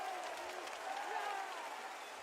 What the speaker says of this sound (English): Oh, the crowd is on their feet.